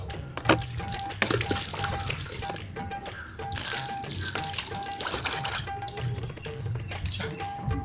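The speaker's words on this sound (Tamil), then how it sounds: "தண்ணி ஊத்துனோடனே ஜில்லு." Water poured for a bath, a steady splashing rush into a tub or bucket with running-tap hiss, continuous and fairly close, no talk over it.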